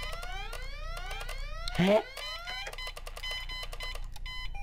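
An alarm blares in the point-and-click game Deponia, layered electronic beeping tones with rising sweeps and a short burst of noise midway, steady and loud throughout, with a brief spoken interjection.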